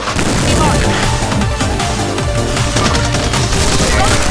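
Sykov pistol fire in a video game, dense rapid bursts of shots and booms in chaotic overlapping volleys, loud and close, with a voice shouting over it.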